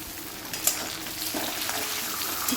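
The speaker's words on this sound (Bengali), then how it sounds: "আলু পেঁয়াজটা একটু ভাজা হয়ে গেলে তারপরে ওগুলো দেবো" Potatoes and onions sizzle steadily in a pan, a constant crackling hiss with a few louder pops and scraping stirs close by.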